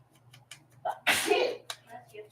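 A single loud sneeze bursts out close by, sharp and explosive, between bits of nearby conversation in a quiet room.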